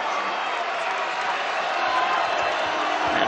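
A sellout arena crowd roars at a UNLV versus New Mexico college basketball game, a dense, continuous wall of cheering that holds loud throughout.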